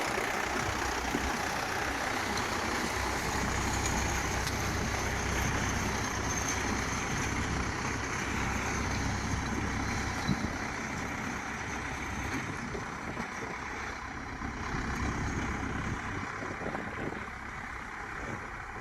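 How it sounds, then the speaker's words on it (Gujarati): A farm tractor engine drones steadily at moderate distance on a field, a continuous low rumble with faint wind and no talking. "આ આપણો ટ્રેક્ટર છે"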